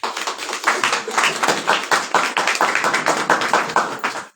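A church congregation claps loudly and steadily for the glory of the Lord, a dense continuous wash of hands with no talking.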